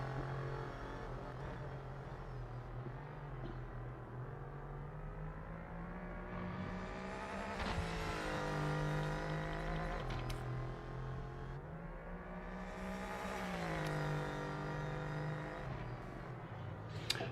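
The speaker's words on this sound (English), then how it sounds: "the spectating car doesn't sound as good as when you're in it" A race car in the PMR racing video game, heard from a spectator view, revs through repeated rising and falling engine sweeps with gear shifts, a continuous loud whining drone with no voices.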